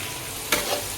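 Green chillies drop into hot oil and sizzle, a brief sharp crackle rising over a steady frying hiss, close and alone.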